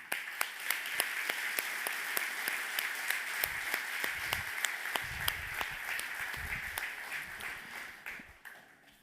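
A conference keynote audience applauds, with dense, steady clapping that fills the room for about eight seconds, punctuated by a few sharp individual claps, before tapering off at the end.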